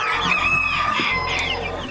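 Several chickens and chicks cluck and squawk close up in a coop, overlapping busily in a short burst with no talking.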